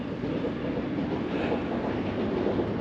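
A train rumbles across the Forth railway bridge in Queensferry, heard from directly beneath as a continuous, steady roar with faint rhythmic clatter of wheels, no voices over it.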